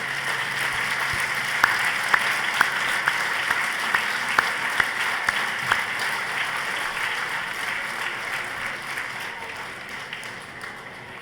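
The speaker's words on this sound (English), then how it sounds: "a huge round of applause, please, for Caroline Cook" An audience claps at an awards ceremony held in a large London venue, a sustained, even wash of applause across the whole stretch with a few sharper nearby claps early on.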